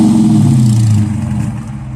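A 2023 Dodge Challenger R/T or 2022 Charger R/T exhaust revs loud and close, its deep throbbing note holding and then falling away as the throttle drops.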